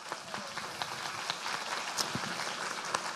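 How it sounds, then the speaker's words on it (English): Audience applause for a third-place art prize winner at a Law Day 2022 event, a steady patter of scattered clapping from a modest crowd lasting a few seconds at moderate volume, with no speech. "Let's give her a round of applause."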